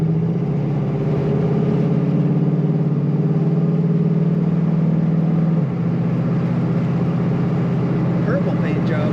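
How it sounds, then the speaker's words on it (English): A 1936 Chevrolet Master Coupe street rod rumbles steadily while driving, with a deep, even engine drone that holds for several seconds, then drops slightly in pitch as the car eases off, close and continuous throughout. "Nice rumble to this car."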